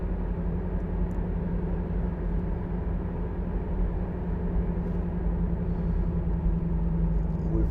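A 2011 Honda CR-Z 1.5 IMA Sport three-door cruises at 50 mph, giving a steady low engine and road rumble inside the cabin with no talking.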